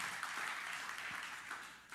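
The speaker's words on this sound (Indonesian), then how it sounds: "Beri tepuk tangan yang." A church congregation claps together during a sermon, a brief, steady wash of many hands with no voices over it.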